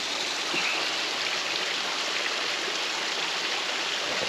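A small waterfall on a trail stream gives a steady, dense rushing of flowing water, close and unbroken throughout, with no voices.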